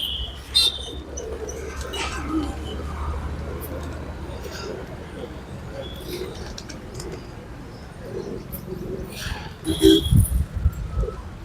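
Pigeons coo softly amid chirps of other birds as grain is scattered for them outdoors, with a person talking over much of it and some brief louder fluttering near the end.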